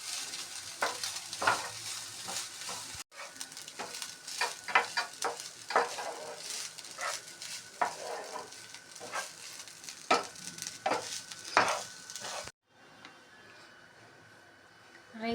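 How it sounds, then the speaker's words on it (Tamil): Cooked rice mixed with salt in a pan for cucumber rice, a long run of close scraping and clinking stirring strokes over a faint sizzle, uneven in rhythm, with a brief gap and a quieter tail near the end. "ரைஸ் ஆட் பண்ணுறேன். தேவையான சால்ட்டு நல்லா மிக்ஸ் பண்ண வேண்டியதான்"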